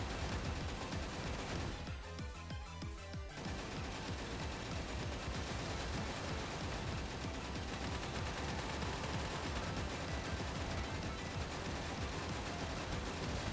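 Machine guns rattle in the video game Snezhinka: Sentinel Girls 2 in dense, rapid bursts of gunfire that fill most of the stretch, with a brief lull near the start and no talking.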